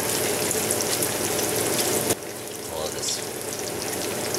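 Fatty bacon frying in a Finex cast iron skillet, a dense close sizzle with a brief drop in intensity midway, then steady crackling resumes.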